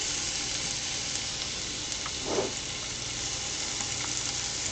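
Ground beef sizzles steadily in a frying pan, a continuous broadband hiss at moderate level with a brief louder crackle midway, no talking.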